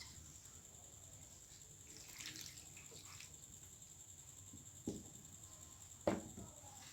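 Water pours and trickles into a pan holding small okra pods, a faint splashing stream over quiet room noise, ending with a couple of sharp clinks of a vessel.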